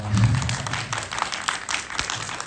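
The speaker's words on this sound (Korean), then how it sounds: "박수 부탁드립니다." An audience at a cinema Q&A screening of The Beekeeper in a CGV theater claps, the applause loud at first and then thinning to scattered claps.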